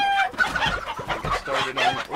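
Chickens in the Stardew Valley video game give a quick burst of overlapping clucks and short squawks. The sound is loud and close, with no talk.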